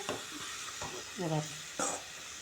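Grated coconut in oil sautéing over low heat for a tuber curry, a soft steady sizzle broken by a few brief scraping stirs, with a short voiced sound partway through.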